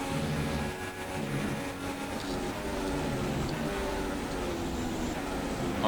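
A Formula 1 car engine in the F1 2016 video game hums as a steady, muffled mid-pitched drone through a qualifying lap at the British Grand Prix. It runs continuously at moderate level beneath background commentary.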